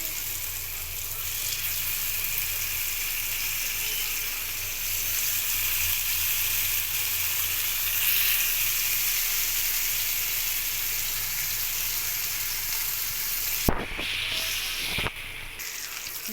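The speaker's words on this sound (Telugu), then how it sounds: "చేపలు ఫ్రై చేసేటప్పుడు ఆయిల్ వేడెక్కిన తర్వాత" Fish fry in hot oil with a continuous, even sizzling hiss close by, a brief clatter of handling near the end, no voices.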